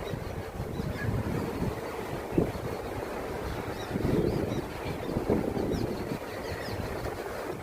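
Sea at Mandarmani beach on a pleasant morning, a steady broadband wash of surf and wind noise rolling continuously, with a few louder swells rising and fading.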